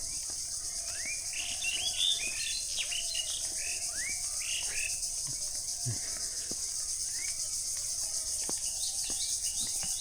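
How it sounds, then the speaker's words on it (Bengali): Birds call and chirp repeatedly in a village near Dhaka, bright rising tweets scattered through the whole stretch over a steady background of insect drone. "পাখির ডাক"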